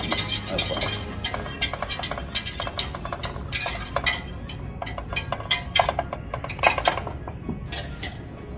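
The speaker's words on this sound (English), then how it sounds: "I'll give this a good little stir and take off the heat as well" A spoon stirring an eggnog mixture in a pot, with quick irregular metallic clinks and scrapes against the pot over a faint background.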